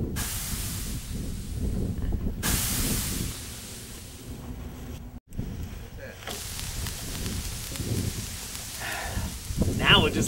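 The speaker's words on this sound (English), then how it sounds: "before we do, we're gonna have to grease the pan" A steady hiss of cooking spray greasing a pan before meatloaf goes in, sprayed in a couple of long bursts close by, with low background noise and some speech around it.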